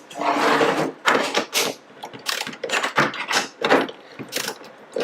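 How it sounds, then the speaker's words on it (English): Tools work loose the bolts on a screen-stretching frame, giving a close series of ratcheting clicks and metallic rasps in short bursts separated by brief pauses. "now we're going to go back through the bolts and loosen them up again"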